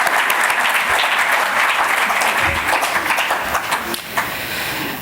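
An audience at an Indo-Pakistani Urdu poetry gathering in North America breaks into loud, steady applause to welcome the poet Ejaz Bhatti, thick clapping that holds for five seconds before easing slightly.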